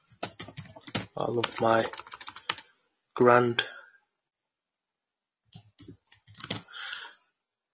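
Keys clatter on a computer keyboard in quick tapping bursts, with someone speaking over and between the typing.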